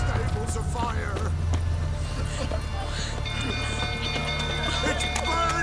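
Horse galloping in The Witcher 3, a steady clip-clop of hooves mixed with game music and effects, running loud throughout under a talking voice.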